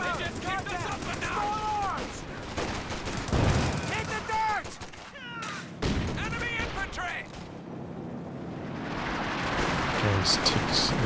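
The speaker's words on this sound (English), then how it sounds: "Double anti-tank guns are working alright." Anti-tank guns fire repeatedly in a Company of Heroes 2 multiplayer battle, with booming shots and scattered gunfire under a commentator's continuous talk.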